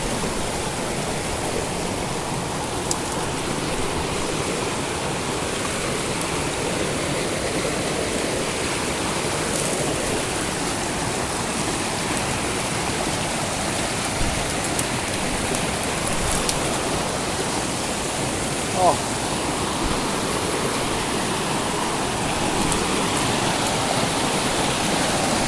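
Water rushes steadily over rocks in a natural stream beside a motorcycle touring route, a continuous broadband roar from start to finish with no talk over it.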